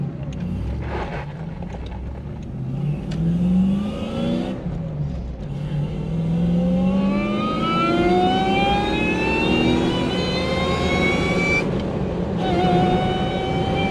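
Supercharged M90 engine in a Toyota Prado idling and revving in a workshop, a loud close roar with rising whiny tones climbing repeatedly as the revs build, held steady between throttle blips.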